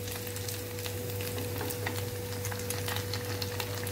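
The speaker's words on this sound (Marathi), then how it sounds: "उरलेल्या वड्या सुद्धा अशाच फ्राय करून घ्यायच्या आहेत." Rava and raw potato vadi frying in hot oil, a steady soft sizzle with small crackles and an occasional stir, close and continuous with no voices.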